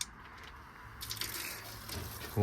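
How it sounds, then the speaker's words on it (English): Water spurts from the end of a hose fed by a small solar-powered pump, a weak, kinked flow building into a close splashing gush near the end of the short stretch. "So all it should need to do is to switch it on, which is switches here, and Kyle should get water out the end of there"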